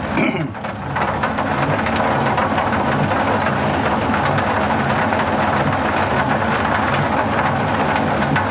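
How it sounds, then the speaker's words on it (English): Heavy rain pouring down at the Balule causeway in Kruger National Park, a loud, dense, continuous hiss and roar of falling water that fills the whole stretch without a break. "Quite heavy rain now."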